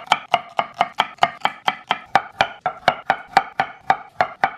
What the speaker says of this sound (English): we have all of our veggies chopped up here